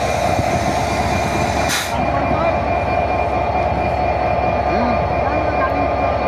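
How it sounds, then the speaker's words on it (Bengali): A train at Khulna railway station gives a loud, close, continuous rumble and wagon roar that runs the whole time, briefly dipping once, with possible faint voices in the background. "এটা একটা হেভি সুন্দর ট্রেন।"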